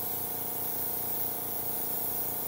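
Steady airbrush spray hiss while painting the wings of a butterfly model with flow improver in the paint, continuous and close with no gaps, no voices.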